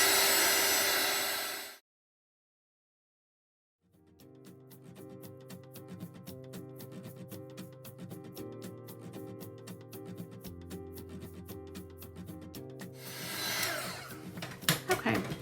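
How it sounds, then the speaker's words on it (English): Heat tool drying a mixed media art project: a loud steady blower whoosh at the start, then a pause and other workspace sounds, and the blower roars again near the end. "I'm going to go ahead and dry this with my dryer a little bit, my heat tool"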